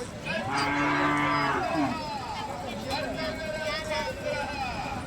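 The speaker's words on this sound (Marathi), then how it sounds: "जबरदस्त असे दोन्ही पण बैल आहेत" Khillar bulls low loudly nearby at the Sangola cattle market, a long drawn-out moo followed by shorter calls, over a background of crowd chatter.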